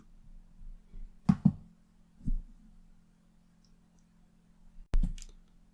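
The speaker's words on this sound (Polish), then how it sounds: "Teraz wystarczy mi tylko kliknąć wyślij." Sharp computer mouse clicks while sending a message with an attachment in an e-register: a quick double click, then single clicks spaced apart, close and crisp over a faint steady hum, with no talking.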